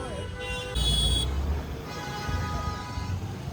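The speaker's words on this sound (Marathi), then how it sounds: "काहीच ट्रॅफिक बघा, शनिवारची ट्रॅफिक." Saturday road traffic near a dam at Lonavala, with a steady rumble of engines and a sustained car horn sounding early, then fainter horn toots further off.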